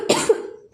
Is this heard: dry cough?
yes